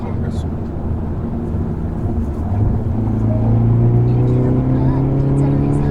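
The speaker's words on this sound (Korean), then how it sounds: "제가 다운시프트 하고 가보겠습니다." A Hyundai Veloster N engine drones from inside the cabin, dropping a gear and then rising in pitch as it accelerates through city traffic, steady and close.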